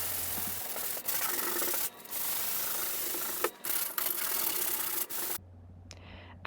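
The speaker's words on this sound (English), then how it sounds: "The first step is to sand where the two colors currently meet so there's no ridges" A painted wall being hand-sanded where two paint colours meet, close rasping rubbing strokes in bursts separated by short pauses, no talking.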